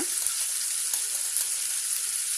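Chopped tomato pieces frying in a pan, a steady close sizzle with a hiss that holds evenly throughout, no voices.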